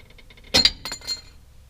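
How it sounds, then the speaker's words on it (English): A metal wrench drops and clanks sharply on a hard surface during 1999 Kia Sportage front brake and strut work, a bright metallic hit followed by a few smaller rattling bounces. "And another wrench went flying."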